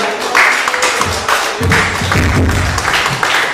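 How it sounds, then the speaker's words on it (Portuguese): Church congregation applauding loudly during a Sunday morning service, a dense wash of hand claps with some thumps and taps, steady throughout. "E a igreja aplauda bem forte o Senhor."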